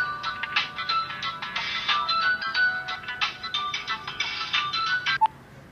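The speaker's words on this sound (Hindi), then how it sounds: "मेरा फोन बज रहा है" A phone ringtone plays repeatedly in a bright, electronic melodic pattern, fairly close and steady, ending abruptly with a click before quiet.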